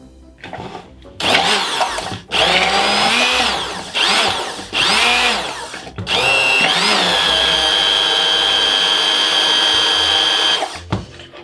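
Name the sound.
immersion blender emulsifying ganache with milk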